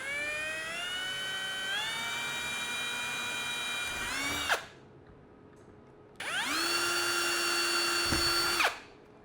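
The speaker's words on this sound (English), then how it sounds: "I'm just going to pre-drill for the self-tapping screws. All right, let's put it in high-speed mode here." A power drill set to high speed pre-drills holes for self-tapping screws while a 3D-printed telescope tripod is assembled, giving two sustained whirring bursts with rising pitch, each stopping abruptly and separated by a brief quiet pause.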